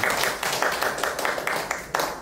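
An audience claps at a Korean lecture on national unification and the Korean Dream: brisk, dense applause that stays steady and loud for a couple of seconds, with a few sharper claps standing out and no talk over it.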